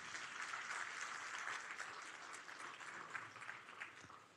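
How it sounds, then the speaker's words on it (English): Audience applause fills a faculty institute gathering at a university, a faint but steady wash of many hands clapping that holds without pause throughout. "Give yourselves a round of applause."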